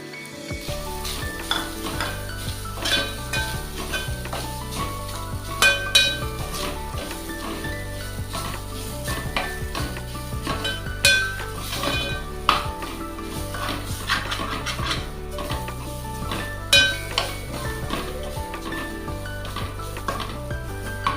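Ghee melts and grated coconut is stirred and roasted in a pan for a sweet coconut and beetroot karanji filling. Soft, continuous sizzling runs under light scraping and clinks of a utensil against the pan.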